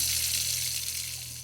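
Water pouring in a garden as plants are watered, a steady close splashing gush with a low hum beneath, tapering slightly toward the end.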